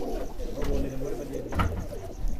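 Pigeons cooing at a Punjabi pigeon keeper's loft, soft low coos recurring under ambient noise and faint background voices, near and moderate in level.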